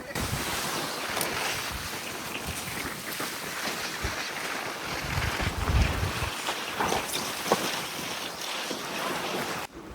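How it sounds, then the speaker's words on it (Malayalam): A fishing boat pitches through rough deep sea, with waves slapping and sloshing against the hull amid steady wind rush and engine rumble; no voices. "ബോട്ട് ഇങ്ങനെ എടുത്തിട്ട് കുത്തണുണ്ട്"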